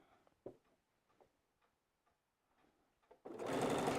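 A domestic sewing machine stitches a seam along a trimmed edge, starting in a sudden loud burst of steady rapid whirring after a few soft ticks and clicks from fabric handling.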